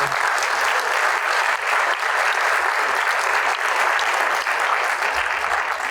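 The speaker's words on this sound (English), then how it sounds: "a round of applause please for Kevin" A community meeting audience gives sustained, dense applause for a speaker named Kevin, loud and continuous from start to finish with no voices standing out.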